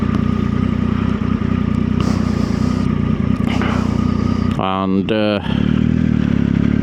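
A motorcycle fitted with a Delkevic aftermarket exhaust idles with a deep, throaty rumble, rising in a couple of quick revs midway; a voice briefly speaks over it.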